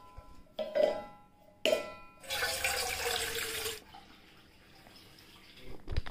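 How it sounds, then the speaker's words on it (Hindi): A household tap runs at home to fill water before bedtime, with a couple of short clunks, then a rushing flow for about a second and a half before it goes quiet. "पानी भरो।"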